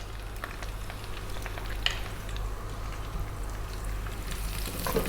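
Onion and garlic frying in a hot pan for spicy fried chicken, a steady, even sizzle with faint crackles and the odd stir, close and alone without talk.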